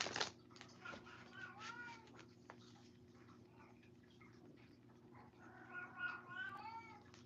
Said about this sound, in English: the shadow cat meows behind the scenes where you can't see her